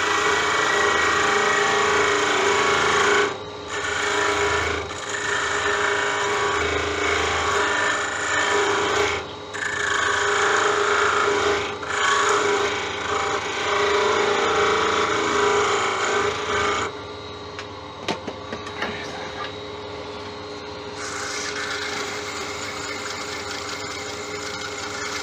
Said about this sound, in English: The easiest way of doing that is parting tool there.